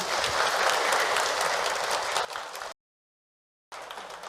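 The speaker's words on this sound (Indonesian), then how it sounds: "Tepuk tangan buat Bunda." Audience applause at a Ramadan religious talk, a dense roar of clapping that cuts off abruptly into silence, then resumes briefly.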